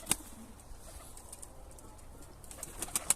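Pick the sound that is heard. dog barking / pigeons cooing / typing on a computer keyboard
pigeons cooing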